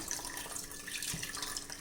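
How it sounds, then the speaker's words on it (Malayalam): Cold water pours over cooked sago pearls being rinsed for a pumpkin-banana pudding, a soft, steady splashing flow, faint and without speech. "ഇതിൽ കുറച്ചുകൂടെ തണുത്ത വെള്ളം ഒഴിച്ചിട്ട് നമുക്ക് അരിച്ചെടുക്കാം."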